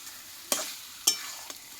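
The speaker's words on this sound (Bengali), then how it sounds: "হাতে সময় নিয়ে কিন্তু চিকেনটাকে কষিয়ে নেব।" Chicken being stir-fried with homemade spices on a clay stove, heard as three sharp scraping strokes of a spatula over a faint background sizzle, with no voices.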